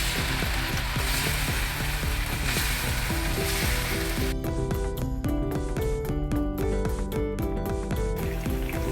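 Poha aloo tikki patties sizzle steadily in hot oil, a dense continuous frying hiss with clinking and scraping from a utensil partway through.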